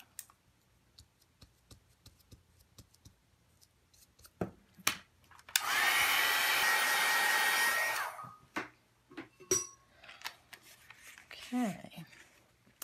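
A handheld dryer blows in one loud, steady burst of about two and a half seconds over mixed media paint on an index card, framed by small clicks, rubbing and crafting handling noises; a voice speaks briefly.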